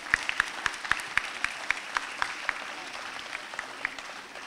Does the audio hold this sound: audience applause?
yes